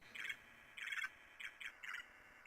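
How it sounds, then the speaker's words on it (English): Sharp bird squawks repeat in a choppy rhythm, five or six short bursts played as a game sound effect for a Unity twin-stick shooter, quiet and alone. "see what bird one sounds like"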